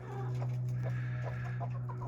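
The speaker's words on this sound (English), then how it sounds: "So as you know, I have chickens." Several hens cluck in short, irregular bursts close by over a steady low hum.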